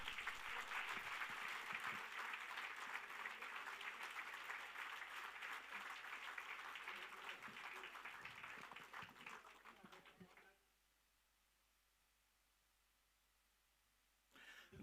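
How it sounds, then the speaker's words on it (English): An audience at a grand-final event applauds and cheers, a loud, sustained wash of clapping that gradually fades and cuts to near silence, with faint sound returning at the very end. "A round of cheer for all of them."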